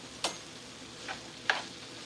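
Seasoned potato skins stirred in a frying pan, giving three quick scraping swishes spread apart over a faint, steady sizzle, fairly close and with no voices.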